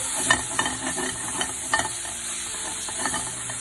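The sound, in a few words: mixing bibimbap with sesame oil in a bowl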